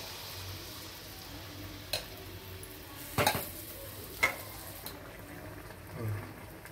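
Sweet bonda batter frying in hot oil, giving a soft continuous sizzle close by, with a few sharp clinks and stirring knocks from a utensil.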